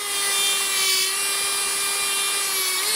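A Medenia New Touch electric nail drill (e-file) cuts a nail, giving a steady, close, high-pitched motor whine with a constant tone and a slight pitch dip near the end, alone without speech.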